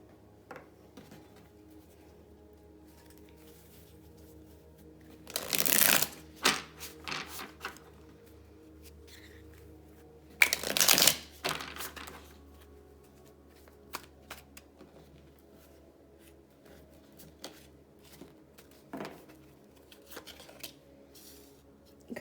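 Tarot cards being shuffled by hand, two brisk riffling bursts close up separated by a pause, followed by soft scattered card handling and light taps in an otherwise quiet room.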